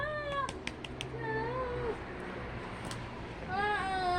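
A kitten meows repeatedly in short, rising cries, close and fairly loud, with a longer drawn-out meow near the end; people talk over it.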